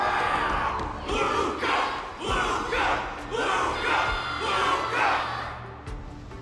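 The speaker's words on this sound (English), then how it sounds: "Can't you hear? Everyone's cheering for you," A crowd cheers in the video game Honkai: Star Rail, rising in repeated loud surges of whooping and shouting voices, each swell a second or so long, with a low synthetic hum beneath.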